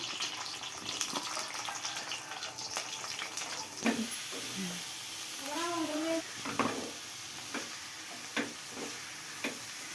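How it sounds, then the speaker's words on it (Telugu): Green chillies and onions go into hot oil in a home kitchen, giving a soft sizzle with clinks and scrapes of stirring scattered through it, all fairly quiet and close. "నూనె వేడెక్కిందండి పచ్చిమిరగలు వేసుకుంటున్నా ఉల్లిపాయలు కూడా వేసుకుంటున్నాం అండి"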